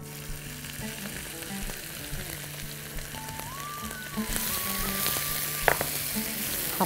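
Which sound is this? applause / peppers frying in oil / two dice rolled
peppers frying in oil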